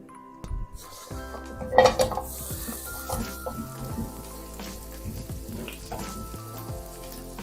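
Sliced onion half-rings frying in a little oil in a pan make a steady soft sizzle, with sharp clinks and scrapes of a utensil against the pan, loudest early on.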